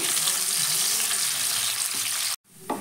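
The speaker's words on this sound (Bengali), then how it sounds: "কাজুটা আমি 5-7 সেকেন্ড একটু ভেজে নেব প্রথমে।" Cashew nuts frying in oil in a pan for fried rice, a loud close sizzle that cuts off abruptly near the end, followed by a brief clatter.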